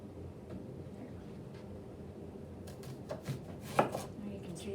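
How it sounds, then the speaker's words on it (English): A knife chopping an onion on a board, heard as a few faint, irregular cuts late on with a sharper knock near the end, under a steady low kitchen hum. "Now you can see the chopping in action."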